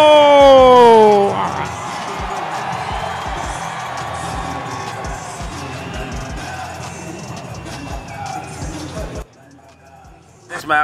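A large crowd cheers and roars for Manny Pacquiao at his official weigh-in against Barrios, loud and sustained babble with whoops and shouts after a brief opening voice, fading near the end.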